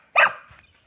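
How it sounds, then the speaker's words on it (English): A female dog gives a single short, playful bark in a garden, close and clear, with a faint trailing rumble after it and no voices. "her playful bark"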